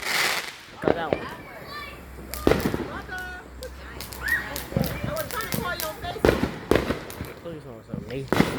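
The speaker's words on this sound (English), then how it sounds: "we could come and like pop some fireworks" Fireworks pop and crack in a string of sharp, irregular bursts, some near and loud, others fainter, while people talk excitedly throughout.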